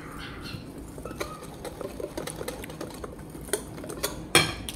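Cake batter with flour being beaten in a bowl, a quiet run of rapid whisk scrapes and light taps against the bowl, ending in a sharper clink.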